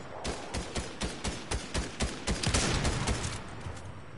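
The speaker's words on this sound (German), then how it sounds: "Da hinten wird geschossen" Rapid, evenly spaced shots ring out in a video game shootout, a steady rhythmic run of loud cracks with no voice over them.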